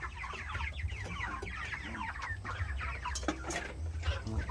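A flock of chickens clucks continuously nearby, many overlapping soft calls over a low steady hum, with a couple of sharp clanks near the end.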